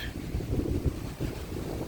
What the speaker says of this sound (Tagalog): Malakas lang hangin ngayon.